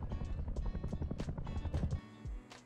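A helicopter in the survival game Rust thumps with rapid rhythmic rotor pulses, moderately loud, then drops off abruptly near the end into a duller rumble.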